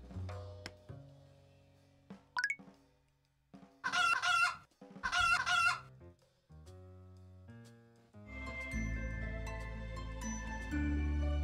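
Chickens in the farming game Havendock cluck and a rooster crows twice in close succession, with sparse game effects around them and a fuller musical tone swelling near the end.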